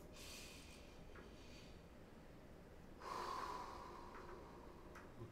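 Deep breaths taken close to the microphone in a quiet room: a soft inhale through the nose followed by a longer, fuller, hissing breath, with no talking.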